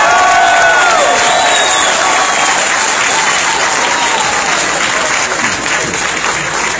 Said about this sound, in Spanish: Un aplauso para Xiomara, porque ganamos Catacamas